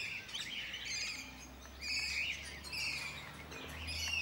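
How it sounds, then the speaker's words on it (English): Cockatoos in an outdoor aviary at Warracknabeal give repeated shrill chirps and squawks at a moderate distance over a constant low background rumble. "Here we have some cockatoos."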